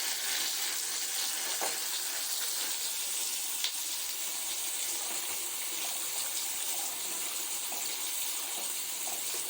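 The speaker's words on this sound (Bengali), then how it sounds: "এদিকে ঘি হচ্ছে আর এদিকে কাঁকরোল ভাজা হচ্ছে" A steady, even sizzle of teasel gourd frying in ghee, continuous and moderately loud with no voices.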